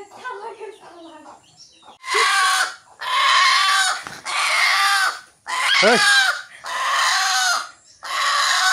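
A pet rooster at a rural home gives a run of loud, close cackling bursts, one of them rising into a crow, after some quieter voices at the start.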